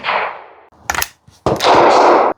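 A single sharp report from a CCI standard velocity .22 LR round fired through a Charles Daly 101 folding single-shot shotgun fitted with a Shooters Box caliber adapter. It is short and close, set between bursts of broadband wind or handling noise.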